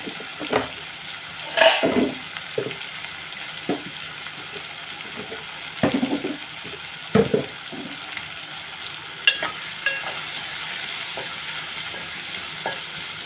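Broad beans and tomato with salt and turmeric cook in a pan, giving a low steady simmer with scattered stirring scrapes and soft clatters through the quiet stretch.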